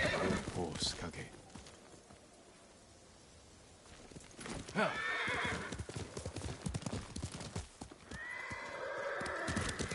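A horse named Kage in the Ghost of Tsushima video game clip-clops along and whinnies, its hoofbeats coming in bursts with a quieter stretch in between, while a voice speaks over it.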